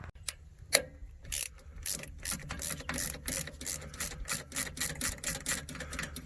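Ratchet turning a bolt off an axle locker assembly, a rapid continuous series of sharp clicks from close range, moderately quiet, with no voices.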